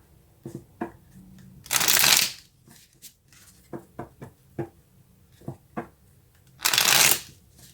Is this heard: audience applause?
no